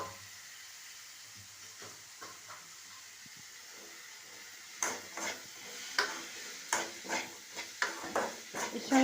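Chopped bottle gourd frying in spiced oil with ginger, a soft low sizzle at first, then louder bursts of crackling and stirring scrapes in the second half, no talking.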